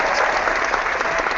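A brief burst of audience applause on a talk show, dense steady clapping from many hands lasting just over a second.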